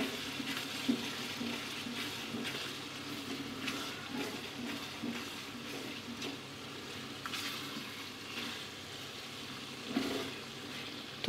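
Chicken and whole garam masala fry in oil in a karahi over moderate heat, giving a steady soft sizzle with occasional stirring scrapes, no talk.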